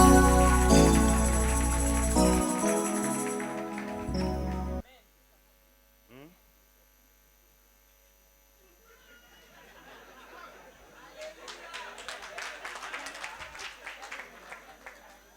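A church congregation cheers and applauds the Lord during a prophetic service, after loud music cuts to near silence. A broad crowd roar of clapping and voices then swells over the last several seconds.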